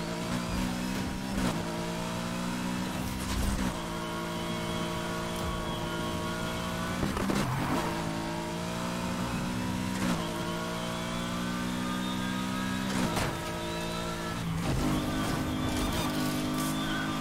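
Nissan Skyline R34 GTR driven in the video game Need for Speed Heat: a sustained engine roar with rising gear-by-gear revs and short dips at shifts, loud and continuous.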